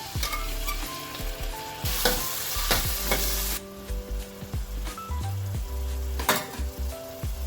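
Marinated prawns fry in a pan with onion and coriander for a prawn curry with drumsticks and potatoes, giving a steady loud sizzle broken by repeated clinks and scrapes of a spoon stirring against the pan, with no voices.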